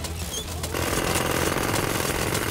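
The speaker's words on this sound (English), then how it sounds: "Jackhammer!" A cartoon construction jackhammer bursts into loud, rapid, continuous hammering after a brief quieter moment, its rattling pulses steady and close until the end.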